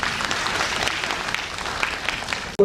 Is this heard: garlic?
no